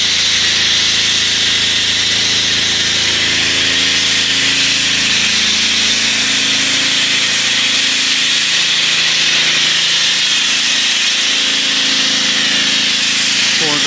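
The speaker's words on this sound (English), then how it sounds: "So go ahead and foam her up." Foam cannon spraying a steady hiss of snow foam over the heavily swirled Black Raven paint of a Cadillac CTS-V, continuous and close, with a faint low hum beneath.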